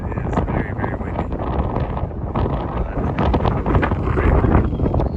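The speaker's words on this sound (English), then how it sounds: "man, it is very, very windy" Strong wind roars across an exposed mountain ridge on a summer Continental Divide Trail hike, buffeting the microphone with a loud, continuous, gusting rush that swells toward the end.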